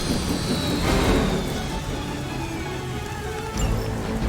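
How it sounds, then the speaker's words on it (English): A helicopter in the video game Marvel's Midnight Suns gives a steady, loud whirring drone of rotor and engine that holds throughout without voices. "We've stopped the helicopter."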